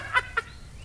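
Birds in a rice field being chased off give two short, sharp calls about a fifth of a second apart, fairly close and clear over a quiet outdoor background.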